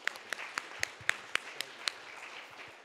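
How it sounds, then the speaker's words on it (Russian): Sparse, evenly spaced claps from a small conference audience after a talk, about ten sharp hits over a few seconds, fairly faint in a quiet room. "Похлопаем."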